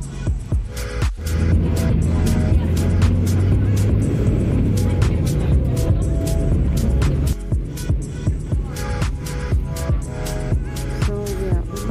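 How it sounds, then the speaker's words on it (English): Road traffic heard from a stopped vehicle, a loud continuous engine drone with passing motor noise and rattling, and talk mixed in partway through. "but we stuck here because of some traffic."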